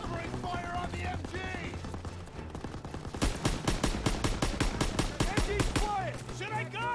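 Call of Duty WWII machine gun fire hammers out a rapid, evenly spaced burst of loud shots in the middle, with shouted voices and battle noise before and after.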